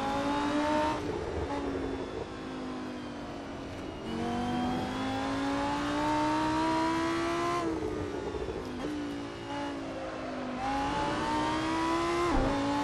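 A race car engine in Assetto Corsa drones steadily with rising and falling revs through gear changes, a continuous mid-level whine with no speech over it.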